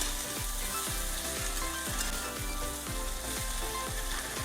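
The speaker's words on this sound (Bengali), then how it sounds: "এরপর এর মধ্যে দিয়ে দেবো আমাদের কেটে রাখা ভেন্ডিগুলোকে। এটাকে ভালো করে মিক্স করে ভেজে নেবো ভালো করে" Cut okra fries in a hot pan with cumin for a Bengali dherosh chorchori, giving a steady close sizzle with rhythmic scraping clicks from stirring about twice a second.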